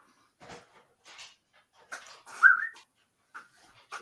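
A puppy whimpers faintly indoors, giving a few short, scattered high whines, with one slightly louder whine in the middle and quiet gaps between.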